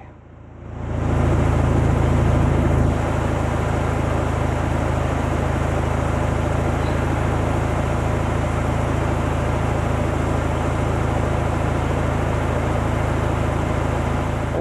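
A car engine, the Blue Beast, idling with its ignition timing retarded through a piggyback ignition controller, a loud steady close drone that starts abruptly after a brief quiet moment and runs on evenly.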